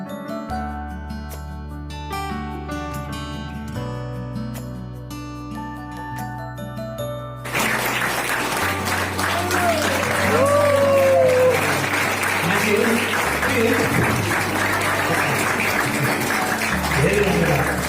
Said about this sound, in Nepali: त्यस बेला मण्डलीले ताली बजाउन फेरि कन्जुस नगरोस्।